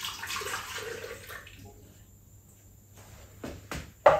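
Whole milk, 300 g, poured into a mixing bowl fitted with a clipped-in whisk for pastry cream, giving a steady close liquid stream that tapers off, followed by a few brief clatters at the end.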